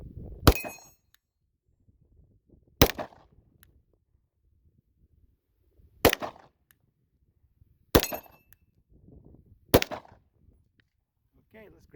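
A 9mm Ruger RXM pistol fires five sharp, widely spaced shots at steel targets, each crack followed by a ringing clang, with quiet pauses and faint movement between them.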